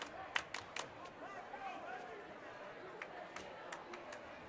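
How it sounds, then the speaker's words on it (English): Crowd of Carroll fans in a high school gym during an IHSAA girls basketball game against Concordia, a steady murmur of chatter with a few sharp claps and shoe squeaks near the start, moderately loud throughout. "if you're picking up the crowd noise, we are right in the heart of the Carroll fans"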